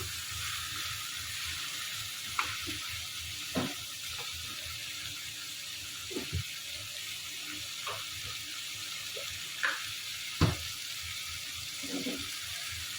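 Chicken gravy frying in a pan while being stirred, a steady sizzle with scattered utensil scrapes and clinks against the pan, close and moderately loud.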